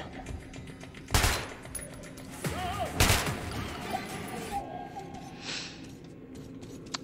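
Gunfire from a powerful gun in the video game Metro Last Light, two loud sharp shots a couple of seconds apart with a clattering mechanical noise between them and quieter game ambience after.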